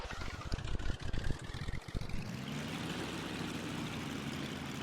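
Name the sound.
Cessna 310 engine starting in X-Plane 11 flight simulator (video game)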